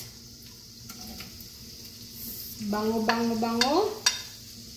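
Onions tumbling into a hot pan with tofu set off a rising, crackling sizzle, with a short stirring scrape near the end, under a brief spoken word.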